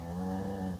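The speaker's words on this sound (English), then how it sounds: "Oh, that's my dog snoring." A dog snores once nearby in a low, rumbling breath that lasts under a second, fairly quiet and heard alone.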